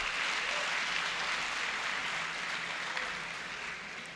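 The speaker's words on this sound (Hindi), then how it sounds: "तालियों से आप उनका इस्तकबाल करें।" Audience at a college mushaira poetry gathering applauding to welcome a poet, a sustained wash of many hands clapping that holds steady and then gradually fades toward the end.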